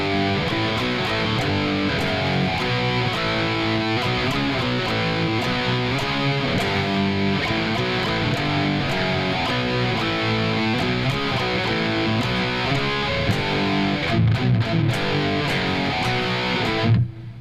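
A heavily distorted electric guitar chugs through the extended chorus rhythm riff of a song, loud and dense, ending with a few tight palm-muted hits.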